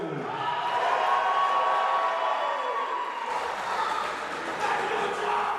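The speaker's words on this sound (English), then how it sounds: "the big hometown crowd pop for the red corner there" A big hometown crowd at a fight night roars for the red corner fighter from Ashland, Kentucky, a dense, loud, continuous wash of cheering and shouting that holds steady throughout.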